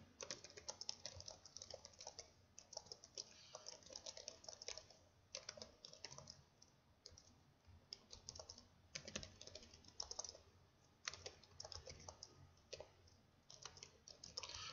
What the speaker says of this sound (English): to send a message, I'll just simply send them, type in the message here